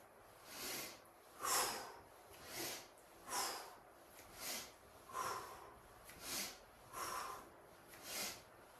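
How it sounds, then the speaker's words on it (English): Yoga breathing with rhythmic airy breaths, in through the nose and out through the mouth, about nine soft even cycles in a steady, unhurried pace, close and quiet with no talking. "Inhale from the nose and exhale from the mouth."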